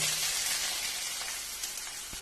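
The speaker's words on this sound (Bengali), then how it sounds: "পেঁয়াজটা একটু ভালো করে ভেজে নেব" Chopped onions fry in a pan with spices while a fish stew is being made, a loud continuous sizzle crackling close up with a few brief stirring clicks.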